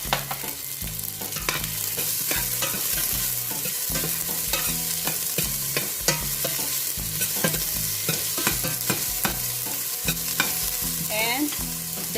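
Garlic and onion frying in a pot, a continuous close sizzle with frequent scraping stirs and clinks of a utensil against the metal, steady throughout with no voices.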